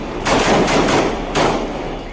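A loud burst of gunfire rings out on a crowded campus grounds where two men were being questioned, sharp cracks in rapid clusters, close and dense, with no voices over it.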